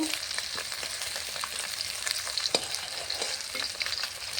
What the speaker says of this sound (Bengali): মাছগুলো ভাজা হয়ে গেছে, এখন নামিয়ে নেব